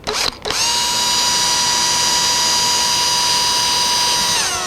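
A power drill bores a hole in the body of a 1964-style ES 335 guitar under construction, a brief start and stop, then a loud, steady, high whine held for several seconds before spinning down.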